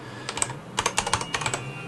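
Keys clack on a GameSir VX2 AimSwitch gaming keyboard in quick, uneven bursts of several crisp strokes each, close up and alone.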